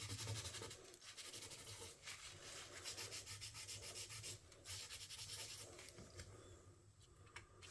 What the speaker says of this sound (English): Now I'm just coming back in and I'm rubbing over her hair.